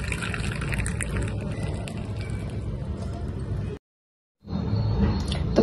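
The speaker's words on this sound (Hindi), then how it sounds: "आपको चाय छन्नी की मदद से काफी बढ़िया से जो है इस पानी को छान लेना है" Tea water is poured through a tea strainer, a steady splashing trickle of liquid that stops abruptly, falls silent briefly, then resumes.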